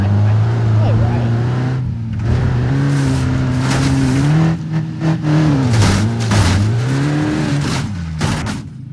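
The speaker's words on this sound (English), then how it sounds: "The only thing different, I think, is that it has a diesel engine instead of a gas engine." Diesel engine of a Cherrier Tograc car in BeamNG.Drive, a steady loud drone whose pitch rises and dips with revving across the clip, with a voice talking over it.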